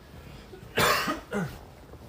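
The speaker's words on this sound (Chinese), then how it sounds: "有点小咳嗽，" Two short coughs from a person, a sharp loud burst followed by a softer second one, close to the microphone in a quiet indoor livestream setting.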